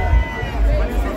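A brief burst of dense crowd hubbub and babble at Notting Hill Carnival in London, loud and close, with voices overlapping.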